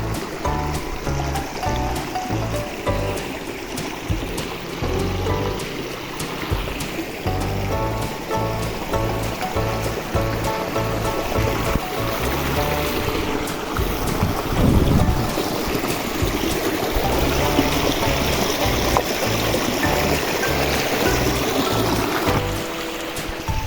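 Water rushes and gurgles steadily for the whole stretch, a dense, continuous roar of the Bunggo River in the Philippines heard up close.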